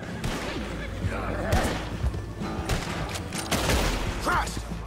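Gunfire in the Red Dead Redemption 2 video game, a burst of several sharp shots mixed with game sounds while someone talks over them.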